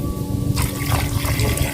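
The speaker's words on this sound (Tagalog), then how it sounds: "lagyan natin ng tubig" Water poured into a cooking pot holding salted fish, a sudden rushing splash that starts partway through and continues steadily and close up.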